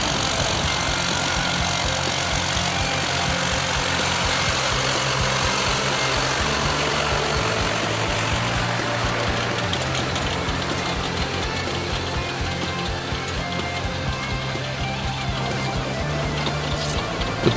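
A tractor with a front-mounted fertiliser tank runs steadily while planting potatoes, with a loud, continuous low engine drone and no break throughout.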